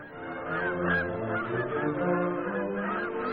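A flock of migrating geese honks continuously, many overlapping calls at a steady, moderately loud level with no other sounds.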